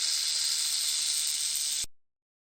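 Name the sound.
snake hissing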